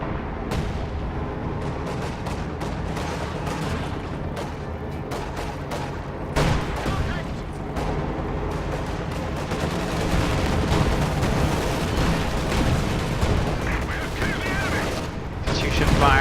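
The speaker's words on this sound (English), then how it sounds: "Katusha firing on the left side, victory point." Katyusha rocket artillery firing a barrage in a World War II strategy game, a dense run of booming launches and blasts that stays loud and continuous, with rumbling layers and sharp cracks piling up throughout.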